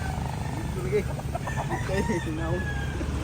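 A gamefowl rooster crowing in a series of short, strained calls over a steady low hum, with someone speaking briefly nearby.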